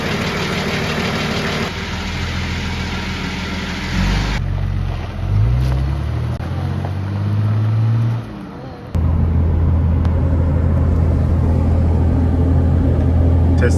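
Nissan Patrol fitted with a converted TD42 4.2 diesel engine driving on a beach: a steady low diesel drone with shifting engine tones midway, then a louder constant rumble, with a voice speaking over it.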